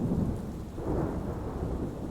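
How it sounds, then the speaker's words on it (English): A thunderstorm roars with heavy rain and deep rolling thunder, a dense, steady rumble that fills the whole stretch without any voices. "raising his voice to be heard above the clamour of rain on the roof and the incessant rolling of thunder"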